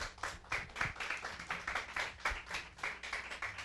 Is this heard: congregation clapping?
yes